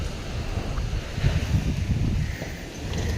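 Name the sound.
strong wind blowing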